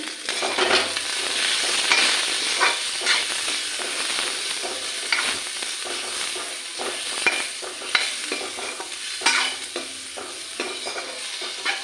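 Greens being stirred with a little turmeric in a frying pan in a home kitchen give a steady close sizzle under repeated scraping strokes of the spoon, with no talking.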